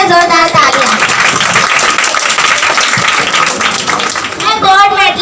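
Applause for silver medal winners at a prize distribution ceremony for a grand competition: loud, continuous clapping from a crowd for about five seconds, with a voice speaking over it near the start and end.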